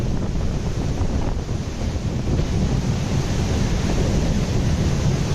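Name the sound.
river water flowing through open lock gate at Farakka Barrage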